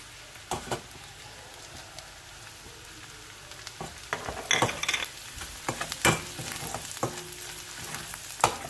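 Soft sizzling of garlic-ginger paste frying in a pan, with scattered clinks and scrapes of stirring, fairly quiet and close.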